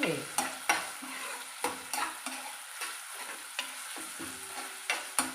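Chopped ginger frying in a pan while being stirred, with soft sizzling under repeated scraping and clinking of a spoon against the pan, close and fairly quiet.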